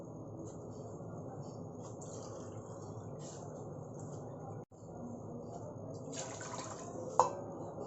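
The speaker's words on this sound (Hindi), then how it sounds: "और डालेंगे हम 2 कप पानी।" Water is poured from a cup into yogurt in a large pot, a soft continuous trickle and splash against a steady low room hum, with one sharp clink of a utensil near the end.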